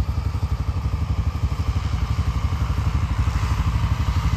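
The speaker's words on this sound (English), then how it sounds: "we decided to pull out the tractor, get the grass" An old tractor engine runs steadily close by on a South Dakota property, a loud low rhythmic chugging that continues without a break and with no talk over it.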